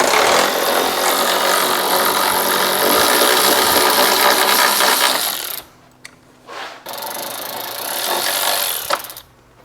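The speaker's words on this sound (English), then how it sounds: "This is the Ryobi ratchet." A Ryobi power ratchet whirs loudly and steadily for over five seconds while loosening engine bolts, then fires off a few short, sharp bursts with brief pauses between them.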